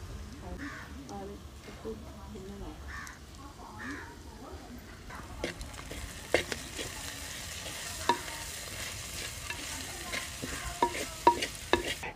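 Onions sauté in a pan with turmeric and salt for a mussel curry, a soft continuous sizzle with scraping stirs that grow busier and sharper midway, crow calls faint in the background.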